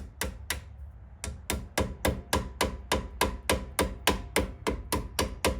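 A steady series of sharp hammer taps tapping a part into place on a car rear end, about three per second, with a brief pause early on, ringing close and loud with no talking.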